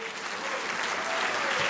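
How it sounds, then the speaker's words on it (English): Guests at a 2016 gala give the Indo-American Center a round of applause, a thick, even wash of many hands clapping together at moderate volume for a short stretch, with no voices standing out. "we should all give the Indo-American Center a great round of applause"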